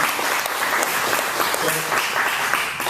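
A roomful of attendees at an enterprise mobile app development meetup claps steadily for the presenters, a full, continuous patter of many hands with faint voices mixed in underneath.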